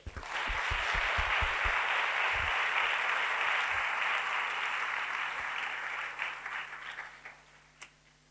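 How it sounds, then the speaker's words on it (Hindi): A church congregation applauds the pastors with dense, sustained clapping that starts with a few separate claps, holds steady, then thins out to scattered claps near the end. "आइए हम सारे पास्टर्स के लिए ताली बजाएं।"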